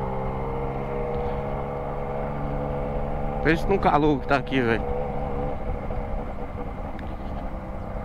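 Motorcycle ridden on a road near Ilhéus, Bahia, its steady mid-pitched engine drone running throughout, with someone talking briefly over it midway.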